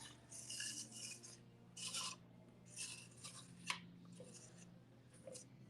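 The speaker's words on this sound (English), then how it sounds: "I feel like scrape with this a little bit" A metal scraper rasps across painted furniture in several short, rough strokes with pauses between them, close and fairly loud.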